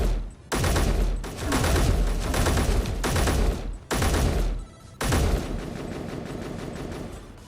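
Rapid bursts of gunfire in the video game Escape From Pertam, loud and close, several sustained fusillades broken by brief silences, the last burst tapering off more softly.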